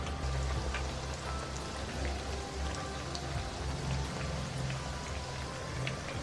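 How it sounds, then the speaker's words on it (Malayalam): Batter-coated brinjal bajji fry in hot oil, a steady, dense crackling sizzle heard up close and unbroken throughout, with no voices. "പെട്ടെന്ന് എണ്ണയിലോട്ട് ഇട്ട് കൊടുക്കുക."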